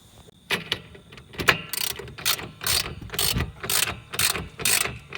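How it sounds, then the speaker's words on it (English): Hand ratchet tightening the under-rail fittings of a BAK Revolver4 tonneau cover on a pickup bed, a series of rapid clicking bursts in an uneven rhythm, close and fairly crisp. "now you want to tighten these fittings underneath down so that way you have it securely in place"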